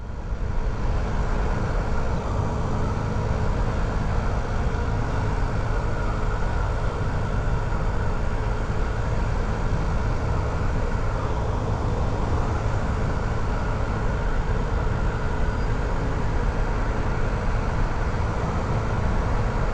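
A Honda Ruckus scooter runs at full throttle but only reaches about 28, giving a steady, unbroken engine drone with heavy wind and road roar. The sound is loud and constant throughout, and nobody speaks.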